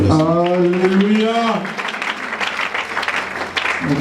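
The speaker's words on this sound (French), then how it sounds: "Est-ce qu'on peut acclamer pour les Alléluia." A church congregation applauds and cheers for the Alleluia; a loud voice calls out at first, then dense clapping and cheering follow close by.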